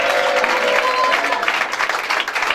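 A church congregation claps and cheers in praise, a dense, steady wash of applause filling the room for a couple of seconds without any speech over it.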